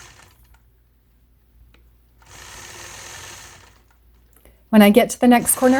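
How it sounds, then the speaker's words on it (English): A sewing machine stitching in the ditch on a quilt block, a steady mechanical whir of stitching running for a couple of seconds before a person begins speaking over the quiet. "now I'll go into stitching in the ditch along the side of that blue unit"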